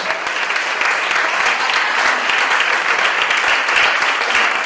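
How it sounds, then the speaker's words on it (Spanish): Strong, steady applause from an audience welcoming a speaker at a human rights and disability seminar at a university, dense and loud clapping sustained for several seconds without voices. "La recibimos con un fuerte aplauso."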